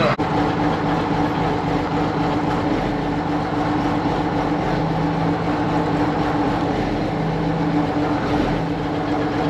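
An engine, likely a farm machine used for mixing feed and hauling manure, idling steadily, a continuous close rumble with a low, even drone and faint tonal hums, no voices.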